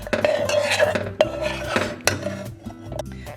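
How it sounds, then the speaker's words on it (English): A utensil scrapes and clinks against a bowl while grated lemon peel is stirred into a truffle mixture, giving irregular close taps and rubbing strokes over a faint musical tone. "Mix in the lemon peel."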